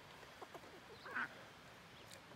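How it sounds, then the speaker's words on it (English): A few faint duck quacks at moderate distance, scattered over a quiet outdoor background near water troughs on a farm in the morning. "the ducks like to just lay by these waterers and just splash it in their mouth all day long"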